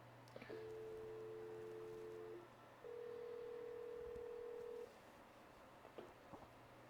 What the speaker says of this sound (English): So we're dialing in the other number.